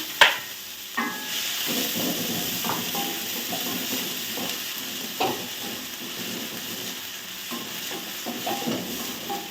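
Finely chopped onions go into hot oil with cumin seeds for palak paneer: a sharp clatter as they hit the pan, then a loud, steady frying sizzle broken by periodic spoon knocks and stirring scrapes.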